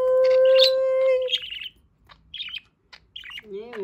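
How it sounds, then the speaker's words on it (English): A pet budgie parakeet chirps and tweets in quick, bright bursts, near and fairly loud, with short pauses between the calls. "You are my cute baby bird on earth."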